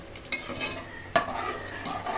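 Quiet frying sizzle of spices tempering in a pan with a couple of light clinks of a utensil stirring, soft and close.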